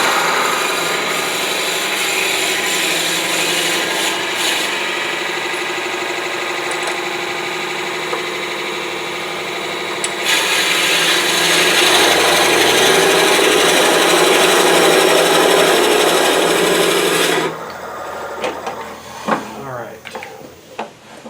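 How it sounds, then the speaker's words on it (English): Wood being drilled out on a lathe spinning at low speed, for a multi-axis turned box: a steady grinding, scraping drone that shifts in pitch partway through and then cuts off, leaving quieter intermittent scraping near the end. "turn the lathe speed way down to do the drilling."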